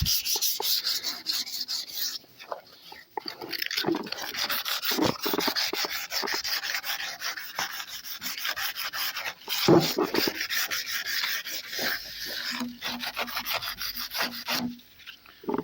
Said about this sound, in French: Ponçage terminé.